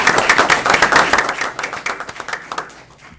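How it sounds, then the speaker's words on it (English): Loud, close applause from an audience honouring Middletown Police Department officers, brisk individual claps blending into a crowd that tapers off over a few seconds. "One more round of applause for them."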